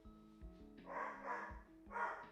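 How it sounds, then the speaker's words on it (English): A dog barks from another room, a short burst of three or four muffled, moderately loud barks. "Dog's going nuts."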